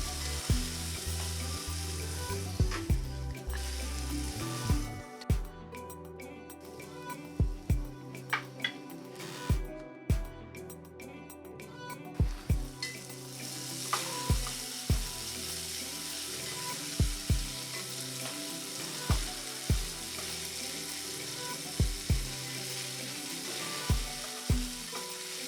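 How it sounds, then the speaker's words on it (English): Frozen chips fry in a pan, giving a steady sizzle throughout while a utensil stirs them, adding scattered clacks and scrapes against the pan. "Remember to stir after some time to make sure they are cooked evenly before adding"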